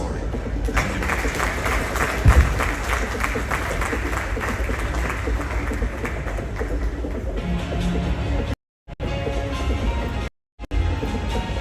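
A seated audience gives sustained applause at a royal awards launch event, a dense wash of clapping that runs for several seconds and then cuts out abruptly twice.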